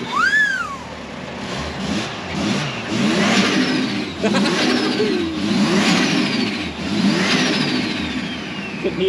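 A Toyota JZX100's engine revs repeatedly, each rise and fall of rpm close and loud, with a whooshing intake sound over the exhaust note.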